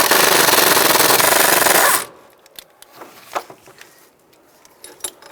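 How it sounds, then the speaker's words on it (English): A 15mm socket loosening transmission mount bolts on a 2010-2017 Chevrolet Equinox, a loud continuous rattling impact burst for about two seconds, then scattered light metallic clicks and knocks. "I'm going to remove these 3 bolts. Loosen them up first,"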